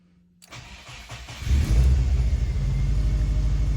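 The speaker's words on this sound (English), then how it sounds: "Then you get in the car, start it," A car engine cranks briefly, catches and starts, then settles into a loud, steady rumbling idle close by.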